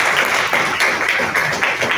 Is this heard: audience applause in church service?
yes